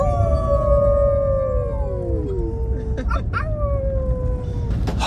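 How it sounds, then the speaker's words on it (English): A wolf howl, several long gliding wailing tones that rise and fall, overlapping as a second voice joins, heard fairly close over a steady low background rumble. "Wolf howl."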